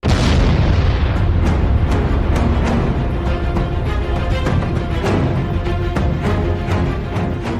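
A cluster bomb explosion in the Ukraine–Russia war: a heavy boom opens, then a continuous rumbling roar with many rapid crackling bursts layered through it, loud and sustained.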